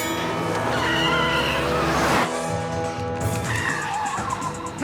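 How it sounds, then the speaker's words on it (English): A cartoon car chase scene has a car skidding with screeching tires and a roaring engine, a brief crunch as it strikes a fruit vendor's push cart midway, then more engine noise. "It's one of those crummy car chase scenes where the car hits the fruit vendor's push cart."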